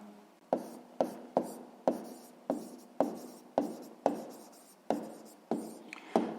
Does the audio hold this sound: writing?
yes